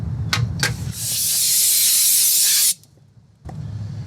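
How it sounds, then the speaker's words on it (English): Compressed air blasts onto a 4L60E transmission part during a filter service, a loud sharp hissing rush lasting under two seconds, close and alone, followed by quiet and faint clatter. "I should blow this with some compressed air."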